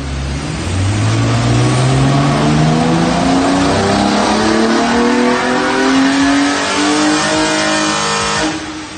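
2010 Hyundai Genesis V6 coupe with a freshly reflashed ECU on a dyno, its engine revving loudly and closely through a long rising pull, the pitch climbing steadily before cutting off abruptly at the end.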